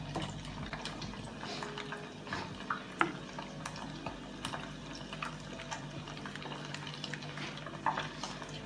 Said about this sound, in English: just stir everything in